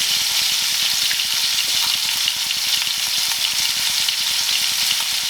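Burger patties fry steadily in a hot pan, a dense continuous sizzle with fine crackling that stays loud and even throughout, with no talking.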